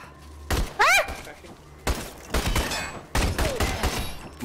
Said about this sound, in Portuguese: Matei o esqueleto no tiro.